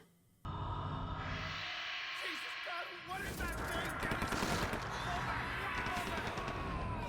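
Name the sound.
gunshots and screaming from a video game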